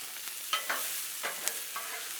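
Peppers and onions fry in oil on a Blackstone griddle, giving a soft steady sizzle broken by several crisp scrapes and stirs of a spatula, close and fairly quiet with no voices.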